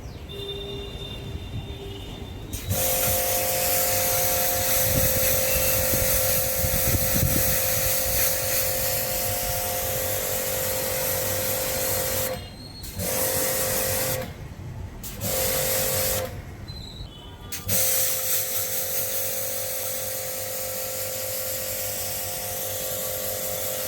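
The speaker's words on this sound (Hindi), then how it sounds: "तो अपन इंजन बे में पानी मारना स्टार्ट करेंगे।" A pressure washer blasts water into the engine bay of a Tata Punch CNG, a loud, close, continuous hiss that cuts out briefly three times before resuming, with no talking.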